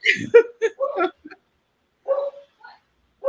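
A dog gives a few short, sharp barks close by, spaced apart, with a person's voice in between.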